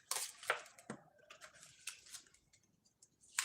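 Playing cards being shuffled: a string of quiet, crisp riffling snaps and rustles in uneven bursts, with no talking.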